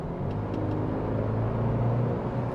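A turbocharged 2025 Toyota 4Runner TRD-Pro accelerating at about half throttle in normal mode gives a steady, droning engine rumble and road noise from inside the cabin, holding even without sharp revving.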